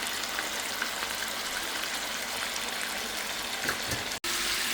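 Chicken hearts fry in a pan over raised heat, a steady wet hiss and bubbling of water cooking off, moderately quiet and continuous with a brief break near the end.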